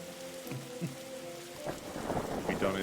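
Rain in the video game The Darkside Detective, a steady patter with soft rumbles and a few heavier splashes building toward the end.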